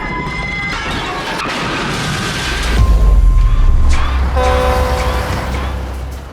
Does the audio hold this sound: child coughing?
no